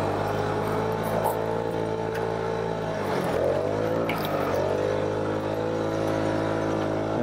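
A Vespa Primavera 50cc scooter engine held at full throttle, a steady strained buzzing drone with layered harmonics and wind rush, dipping and recovering briefly midway but otherwise constant.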